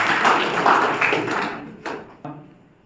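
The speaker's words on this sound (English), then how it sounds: "That deserves a big round of applause." Audience applause in a school lecture hall, a short burst of many hands clapping that fades out, with a couple of final isolated claps.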